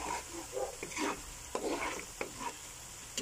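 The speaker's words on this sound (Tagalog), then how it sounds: "Pababrownin ko muna ito. Gagawin kong latik." Coconut milk browning in a pan to make latik, a steady bubbling sizzle with repeated scraping stirs every half second or so, fairly close, no talking.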